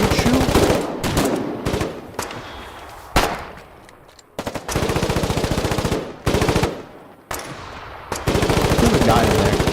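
Rapid automatic gunfire in a video game comes in loud, close bursts of several seconds each, separated by short gaps, with a voice briefly talking over it.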